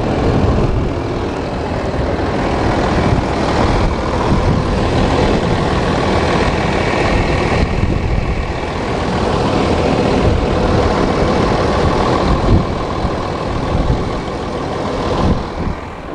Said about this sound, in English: MBE900 six-cylinder diesel engine.